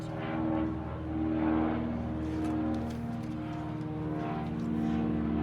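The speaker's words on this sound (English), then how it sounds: "a big plane going over" A big airplane passing overhead, a steady droning rumble with a tonal engine hum that swells slightly and holds across the whole stretch, no voices.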